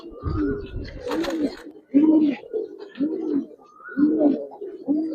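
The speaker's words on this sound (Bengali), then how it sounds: "খুব সুন্দর কবুতর ভাই" Giribaz pigeons coo repeatedly nearby in a loft or market in Narayanganj, a series of rolling, throaty coos about once a second, with a voice briefly talking at the start.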